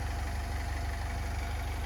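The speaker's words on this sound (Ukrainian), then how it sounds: "одразу хочу звернути увагу, як працює мотор" A 2013 Opel Vivaro 2.0 diesel van engine idles with a steady low rumble and a fast, even knock, heard close and unchanging for a couple of seconds.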